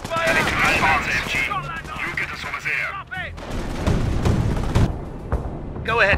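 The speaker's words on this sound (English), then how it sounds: "Firing those assault rifles!" Assault rifles fire in a video game battle during the Oosterbeek mission of Operation Market Garden, with loud, dense bursts of gunfire mixed with shouted voices.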